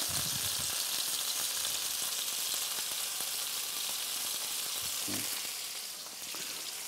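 Chicken seasoned with Poultry Magic sizzles in a frying pan, a steady dense hiss throughout with a few soft clunks as it is moved or flipped, close and without talk.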